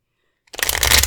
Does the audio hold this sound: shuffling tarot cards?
yes